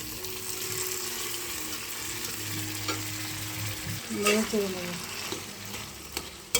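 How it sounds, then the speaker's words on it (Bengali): Boiled papaya frying with mustard in a pan as it is stirred, a steady close sizzle under scraping spatula strokes, growing busier and louder toward the end. "এখন পেঁপেটা দিয়ে দেবো সরিষা দিয়ে একটু কিছুক্ষণ ভেজে নিয়েছি"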